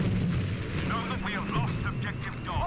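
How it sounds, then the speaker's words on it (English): Tank cannon fire in Battlefield 5 on a North Africa battlefield, a sustained rumbling barrage of booms and distant gunfire under continuous battle noise, with someone talking over it. "Not sure what's that, but I'm pretty sure it's a tank"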